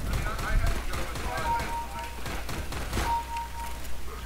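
Gunfire in a first-person shooter video game, rapid shots and impacts repeating in a busy mix, with a person talking over the action throughout.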